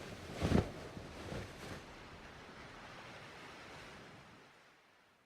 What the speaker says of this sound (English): Sound of the sea.